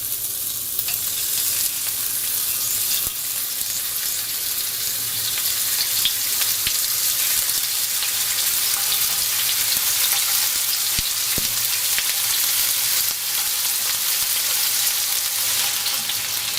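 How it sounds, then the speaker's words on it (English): Prawns fry in hot oil with a loud, continuous, close crackling sizzle that holds steady throughout, with no talk. "as soon as the oil is hot, we're going to add the prawns"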